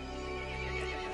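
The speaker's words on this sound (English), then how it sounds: "The horse grew angry and summoned the other monsters." Horse whinnying in the Resident Evil Village video game, a single drawn-out neigh with a strained, tonal quality, heard alone over a steady low hum.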